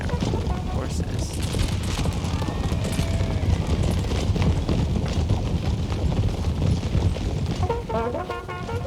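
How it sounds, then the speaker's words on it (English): A cavalry charge in Empire: Total War, with massed hooves drumming steadily under scattered musket volleys and booming cannon fire on a busy battlefield, while a voice talks over it. "Let's follow this cav charge"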